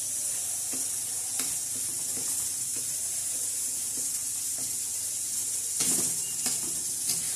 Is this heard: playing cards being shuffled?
no